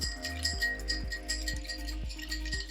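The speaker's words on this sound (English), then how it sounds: "you're gonna take the bar spoon. Yeah. And you're gonna stir that." A bar spoon stirs ice in a glass while a Manhattan cocktail is mixed, giving soft rhythmic clinks about twice a second close up.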